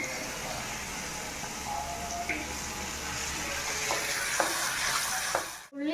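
Small red onions and green chillies with salt fry in a pan, giving a continuous close sizzle with stirring scrapes. A few light clinks sound toward the end, with no one talking.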